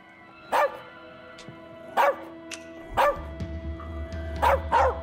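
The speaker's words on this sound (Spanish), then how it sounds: "Es un perro." A dog in the As Dusk Falls video game barks sharply five times, spaced irregularly and loud against a quiet background with a low hum.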